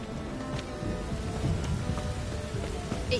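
Steady rain in The Witcher 3 video game falls as a continuous dense hiss with scattered drop patter, even and unbroken throughout, with no voices over it.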